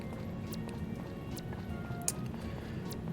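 A horse clip-clops steadily at a run in the farming game Story of Seasons: Friends of Mineral Town, soft and somewhat distant hoofbeats over a constant low game background, with a few faint higher clicks.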